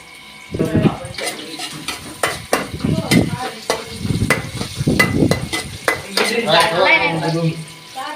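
Ginger is tipped into a pot of frying potato slices for a homemade pulao. The sizzle keeps running under repeated metal stirring scrapes and clinks against the pot.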